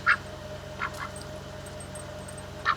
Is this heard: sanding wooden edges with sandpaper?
no